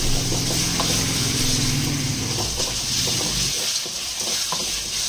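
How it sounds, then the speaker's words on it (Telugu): Tomatoes fry with salt in a pan, giving a steady, dense close-up sizzle that runs unbroken throughout with some stirring and scraping, and no talk over it. "అందుకే ఉప్పు యాడ్ చేసి మనము టమాటాలు ఫ్రై చేసేయాలి"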